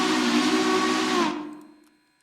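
Steam locomotive whistle in the railroad game Railroader gives one sustained, loud hissing blast with a steady chime tone, then cuts off and trails away to near silence.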